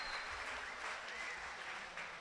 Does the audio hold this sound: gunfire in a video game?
no